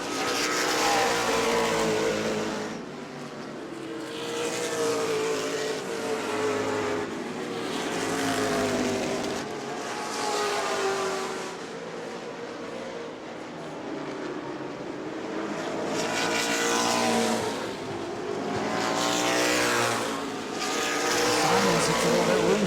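Race cars at New Smyrna Speedway roar off a corner late in a Prelude to the Cup race, a loud sustained engine drone that swells and fades as cars pass in waves.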